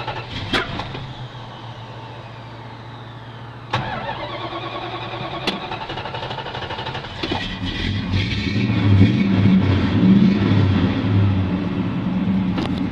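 A stock 1969 Plymouth Roadrunner V8 cranks with sharp starter bursts, stumbles, then catches and fires up into a loud, rough, rumbling idle with revving, heard close up.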